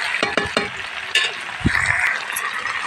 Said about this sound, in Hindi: ये तेल मसाले के साथ ही फ्राई हो जाएगा